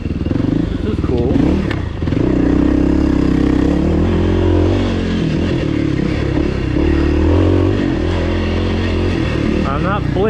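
A 2024 Kawasaki KLX300R dirt bike cruising along wooded singletrack, its engine a steady close drone throughout with a few brief throttle changes, rattles and clatter from the trail, and a voice talking over the ride.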